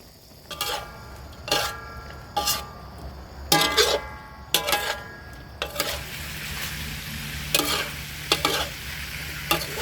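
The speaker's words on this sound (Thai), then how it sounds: "เมื่อ น้ำเดือดนะ เราก็ทำการคั่วไปคั่วมา" Pork sizzles and crackles as it is stir-fried with salt in a hot pan while a utensil scrapes and stirs in repeated bursts, close up with a steady frying hiss underneath.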